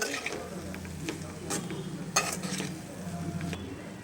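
Leftover rice frying in a pan gives a faint, low sizzle under occasional scrapes and clinks of a spatula stirring against the metal.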